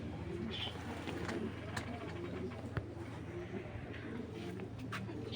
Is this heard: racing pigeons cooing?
yes